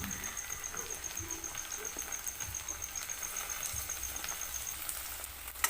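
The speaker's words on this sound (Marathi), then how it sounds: "कांदा पण व्यवस्थित लालसर होऊ द्यायचा आहे आणि त्याच्यामध्ये टोमॅटो घालायचे आहेत" Onion and tomatoes fry in oil for a ridged gourd (dodka bhaji) curry, producing a soft, steady sizzle with faint crackles and a few light utensil taps, continuous and fairly quiet with no speech.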